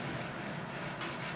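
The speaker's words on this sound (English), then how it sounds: "we'll get this painted, spreading it out bit by bit" A paint roller rolls paint across a foam board surface, a soft continuous rubbing swish with slight sticky texture, close and quiet, with no talking.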